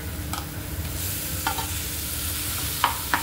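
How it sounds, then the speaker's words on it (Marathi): Eggplant for bharta fries in a pan with red chili powder, giving a steady, moderate sizzle. A few brief scrapes of stirring sound over a low rumbling background. "आता आपण वांग टाकूया त्यात."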